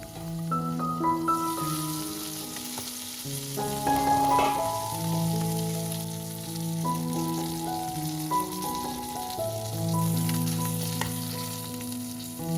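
Fish frying in hot oil in a home kitchen gives a steady, bright sizzle that runs the whole time beneath fairly loud background music, with no talking.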